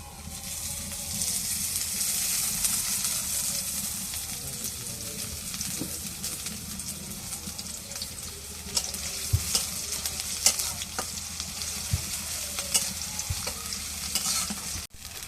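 Oil fries in a pot over a clay stove in a rural outdoor kitchen, a steady close sizzle running throughout with intermittent stirring scrapes and clinks.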